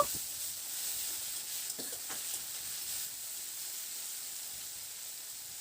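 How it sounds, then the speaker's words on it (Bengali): Small chopped tomatoes frying with onion, garlic and chilli in a pan: a steady hissing sizzle throughout, with a few faint stirring ticks near the middle and no talking. "সেই টমেটোটাকে দিয়ে দিলাম টমেটোটাকে দিয়ে একটু নাড়াচাড়া করে নেব"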